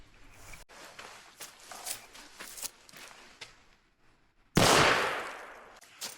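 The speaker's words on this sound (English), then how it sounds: "Now, I just fired 1 round, right?" A single loud gunshot from a Merwin Hulbert Pocket No. 1 .38 revolver, a sharp crack with a decaying tail, preceded by quiet handling noises and faint footsteps.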